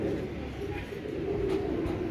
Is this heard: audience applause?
no